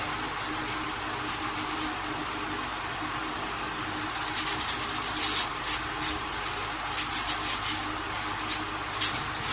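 Very fine grit sandpaper rubs over a small model plane, a Dassault Mirage III-O, in a steady close scratchy hiss with short rhythmic strokes growing more distinct in the second half.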